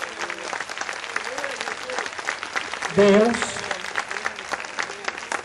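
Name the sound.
congregation applauding in church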